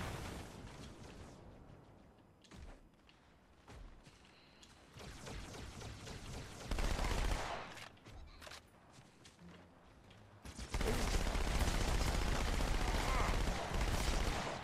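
Gunfire in the Halo 2 Anniversary Delta Halo mission, with sniper rifle shots among sharp single cracks and dense bursts of automatic fire and explosions, loud and continuous near the end, with a voice talking over it.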